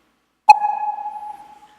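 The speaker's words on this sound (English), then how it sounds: "So that's the sound of a new cell getting created." A single sonar-like ping marks a debugger breakpoint firing as a new table view cell is created: a sharp, clear tone that rings and fades over about a second in silence.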